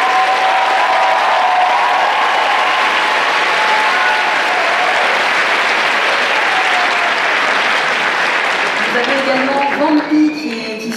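A convention audience at a cosplay contest claps loudly and continuously for jury members, a thick wash of applause with some cheering, and a voice over a microphone rising as the clapping tapers at the end.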